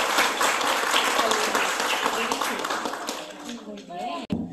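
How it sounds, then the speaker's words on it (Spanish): Dense applause from a crowd at a kindergarten science project presentation, loud and continuous before thinning near the end, with voices mixed in. "¿Aplauso?"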